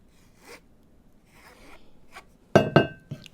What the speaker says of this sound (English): scrape off what's left on the bottom of the